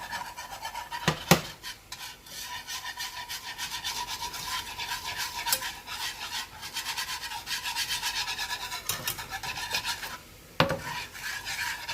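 A utensil stirs and scrapes thick béchamel cream sauce in a pan, a steady close rubbing rasp with occasional sharper knocks against the pan.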